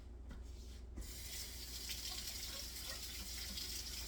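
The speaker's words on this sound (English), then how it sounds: "I'm going to wash this can." Tap water gushing steadily into a sink while a can of crushed tomatoes is washed, a continuous close splashing flow after a brief quieter start.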